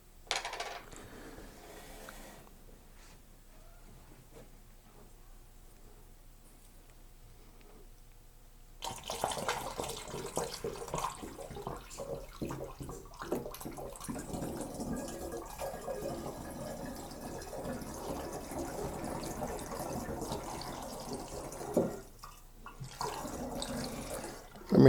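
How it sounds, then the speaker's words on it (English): Water pours steadily into a bottle for a traditional three-ingredient show mead, starting after a quiet stretch and running as a continuous splashing, trickling stream close by, with no voices. "add in about half of our water"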